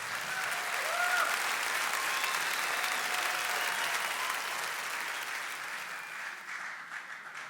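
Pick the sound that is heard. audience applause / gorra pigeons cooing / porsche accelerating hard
audience applause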